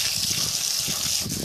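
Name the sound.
watering potted plants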